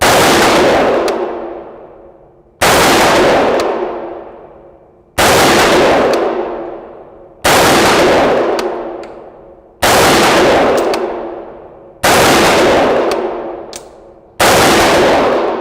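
Seven loud, close shots from a Colt Commando 631 CAR-15/XM177 clone AR-15 rifle ring out one by one at an even, unhurried pace, each crack trailing off in a long echoing decay before the next.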